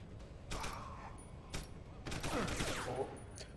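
Bursts of gunfire from the video game Deus Ex: Human Revolution, a few sharp shots and short volleys spread across a few seconds, moderately loud over quiet game ambience and low background noise.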